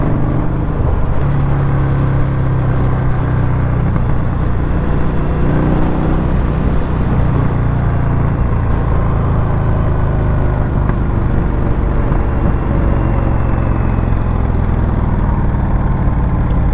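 A 2021 Indian Scout Bobber motorcycle engine under way on the road, a steady, loud, continuous drone with rushing wind noise and no pauses throughout.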